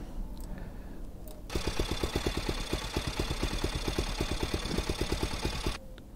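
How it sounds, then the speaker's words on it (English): A motorcycle engine runs with a rapid, even train of pulses, starting abruptly after a quieter lead-in and cutting off near the end, close and moderately loud with no talk. "the other thing we sampled was the motorcycle"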